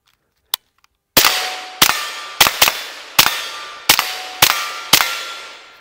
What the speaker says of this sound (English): let's go out to 100 yards on that four inch plate